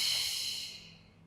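A single close, airy breath during a Pilates hamstring stretch on the mat, strongest at the start and tapering away to quiet within about a second.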